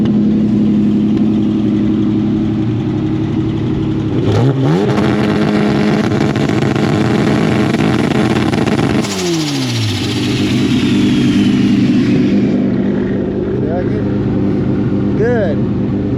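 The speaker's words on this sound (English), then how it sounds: "make sure she doesn't leak under two-step, because whenever the engine's under boost, the fuel system has more pressure on it" A boosted car engine idles and holds steady revs on two-step launch control, with strong low harmonics, two sharp rev sweeps breaking the drone, and voices talking over it throughout.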